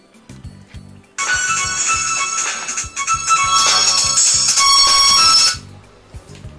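A loud electronic phone ring sounds for about four seconds, rising and pulsing, with faint background noise before and after.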